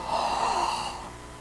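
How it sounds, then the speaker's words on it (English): A single big gasp for air, a sharp, breathy inhalation lasting about a second, heard close and alone before breaking off. "big gasp for air"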